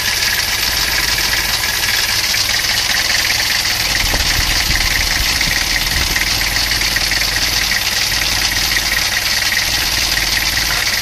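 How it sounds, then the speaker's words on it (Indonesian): A Toyota Kijang diesel engine with a fault, blowing white exhaust smoke that smells of burnt oil, idles while warming up, giving a loud, constant clattering rumble throughout with no voices. "Oke, langsung kita panasi dulu sampai panas dulu, baru nanti akan kita cek lagi. Jadi kita panasi dulu di mesinnya."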